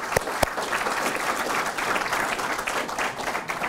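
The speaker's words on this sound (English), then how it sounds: "please stand, wave, recognize, and we can give you a round of applause" Audience applause fills a room at an evening talk on U.S. competitiveness and globalization, steady dense clapping from many hands at moderate level, with a couple of sharper claps near the start.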